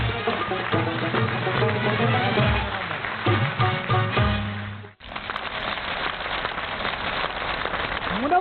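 Loud, dense applause from a large outdoor crowd of spectators and soldiers at a Republic Day poetry gathering, steady for several seconds, with low sustained musical tones under it at first.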